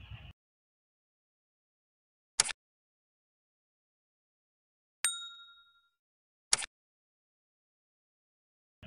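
Notification bell sound effect: a single clear ding with a ringing tail, set among a few short sharp clicks or taps separated by silence.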